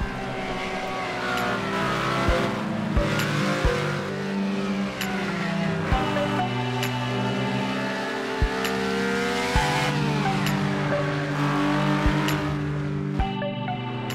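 Race car in the game Project Cars 2 lapping the Nordschleife, engine droning and rising through the gears with repeated sharp upshift cracks and pitch drops, loud and continuous with no talk.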